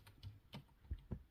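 Quick, uneven keystrokes on a computer keyboard, a handful of close, soft taps with short pauses between them and no talking.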